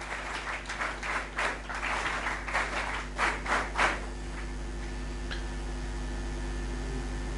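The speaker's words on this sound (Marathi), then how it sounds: "जोरदार टाळ्या वाजवूया" Audience at a school foundation day ceremony claps in several short bursts over a constant low hum, then the clapping dies away leaving only the background drone.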